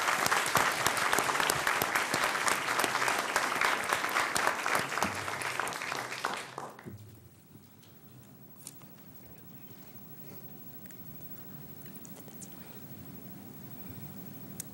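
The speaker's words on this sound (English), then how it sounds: "Let's give all of these outstanding students a round of applause." An audience at a school board meeting gives students a round of applause, loud and dense for about six seconds before cutting off abruptly, leaving quiet room tone with faint shuffling.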